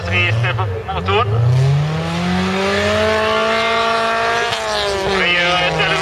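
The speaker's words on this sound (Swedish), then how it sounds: "Använder hela varvtalsregister på motorn." A folkrace car's engine climbs through its full rev range, the pitch sweeping up and holding high, then rising again, loud and close under a commentator's voice.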